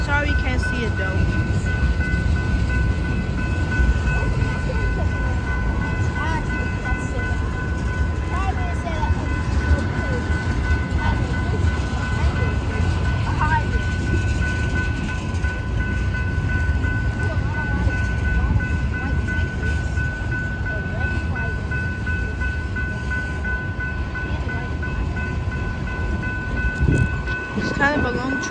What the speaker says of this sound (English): It's kind of a long train.